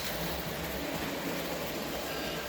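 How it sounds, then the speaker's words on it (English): A toy train rolls steadily along its track, a continuous faint rumbling hum with no distinct clicks or talking. "we have the train running on the track."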